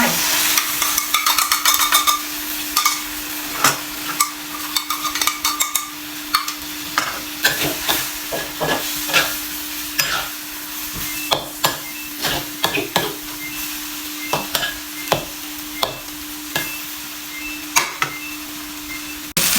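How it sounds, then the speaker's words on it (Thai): Egg frying in a pan and being stirred, with a steady sizzle and repeated sharp scrapes and taps of the utensil against the pan, close and fairly loud, with no talking. "ใส่ไข่ลงไป"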